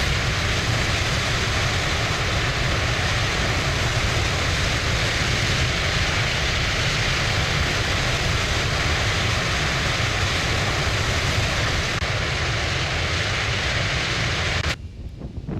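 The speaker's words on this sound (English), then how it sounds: "I'll just disable this to get rid of that horrible wind sound" Steady, loud roaring wind rushing through the FlightFactor 777 cockpit in X-Plane 12, a broad continuous hiss that suddenly cuts out near the end.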